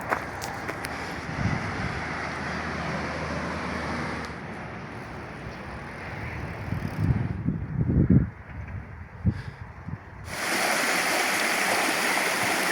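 A small mountain stream in the Arve area runs with many little tributaries feeding in, giving a steady broadband rush of flowing water, briefly broken by louder splashes and thumps near the microphone midway before the continuous flow returns.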